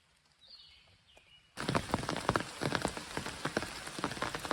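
Heavy rain pours down over a bare corn field, starting suddenly after a quiet moment and continuing as a dense, steady patter of close drops with no voices.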